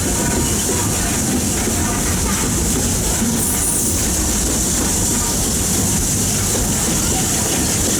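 A Walt Disney World Railroad train carrying riders near Fantasyland gives off a steady, close rumble and rattle of wheels on track that continues unbroken throughout.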